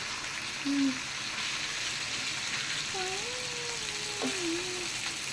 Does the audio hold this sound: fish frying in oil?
yes